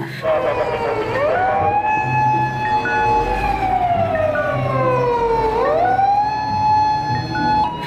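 A toy fire truck's wailing siren rises and falls in long sweeps, steady and close, with a faint rumble beneath it.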